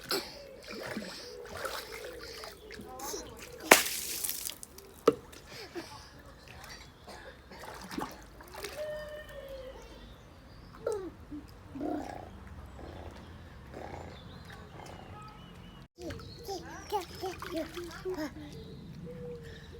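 Children splash water while playing in summer at a family home in England: intermittent splashes and drips mixed with frequent talking and shouting voices.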